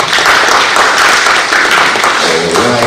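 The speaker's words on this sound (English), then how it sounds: "Another round of applause for them." A business forum audience at the British Council in Accra gives a loud round of applause, a thick continuous patter of clapping throughout, with a faint voice surfacing near the end.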